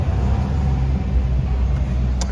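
A RAM 3500 heavy-duty pickup engine rumbles low and steady nearby, a deep idling drone with a faint rise as it pulls past.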